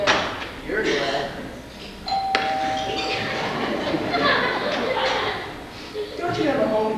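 A doorbell rings with a single sustained chime tone amid busy room noise, while people talk and chatter over it throughout.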